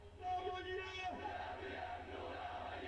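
Protest crowd in downtown Amman, Jordan, chanting in solidarity with Gaza after Friday prayers: many voices shouting together in a loud, rhythmic chant that carries on steadily without a break.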